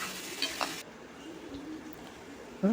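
Partly cooked mutton tossed into a hot pan and sautéed for dum biryani, giving a soft steady sizzle with brief stirring and scraping clinks and a louder scrape near the end, close by and with no talking.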